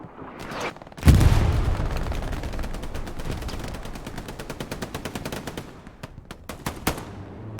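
Rapid machine gun bursts in a competitive multiplayer shooter game, loud and sustained after a sharp opening blast, with repeated staccato shots continuing throughout and a few isolated cracks toward the end.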